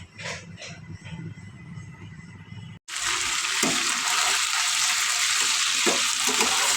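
Chicken frying for a tandoori-style roast bursts into a loud, close sizzle partway through, following a quieter stretch of kitchen noise, then holds as a dense, steady hiss.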